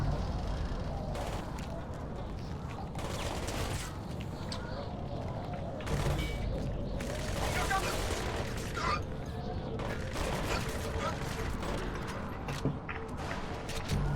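Gunfire in the video game Crysis Warhead: repeated bursts and volleys of shots with booms and mechanical clatter, dense and loud throughout, with a voice talking underneath.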